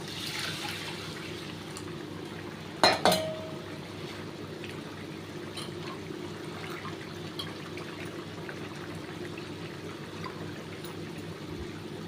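Flattened rice (poha) being washed in water for tamarind poha upma makes a continuous soft watery wash, broken near the start by a brief sharp clink, with no talking.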